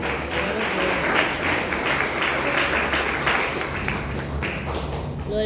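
A church congregation claps hands together during a Portuguese-language evening service, a steady rhythmic patter of many palms, close and continuous for several seconds.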